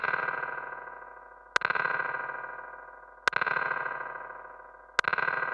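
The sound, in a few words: DIY spring reverb effect made with delay in Ableton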